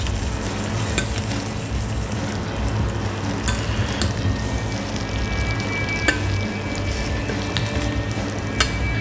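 Steak sizzles loudly in a pan of butter as it is basted, a dense, steady frying hiss up close, broken by occasional sharp clinks of a spoon against the pan.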